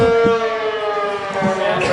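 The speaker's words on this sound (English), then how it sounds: "Wayne, you better call the National Guard because the sirens are going off here." Civil defense sirens sound outdoors near a beach house in Kenosha: a steady, loud, sustained wailing tone that fills the whole stretch, with a few low thumps beneath it.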